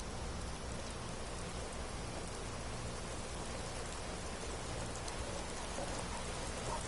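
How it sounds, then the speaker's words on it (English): Rain pours down in Skyrim as an unbroken, gentle hiss of drops striking the ground, steady and moderately quiet throughout, with no one speaking. "It's raining! I love the rain so much."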